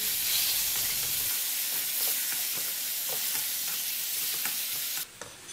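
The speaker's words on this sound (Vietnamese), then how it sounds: "các bạn xào tiếp tục để cho cái thịt nó săn lại luôn" Duck meat with ginger stir-frying in a hot pan, a steady loud sizzle and hiss with light scraping of the utensil, then a sudden drop near the end.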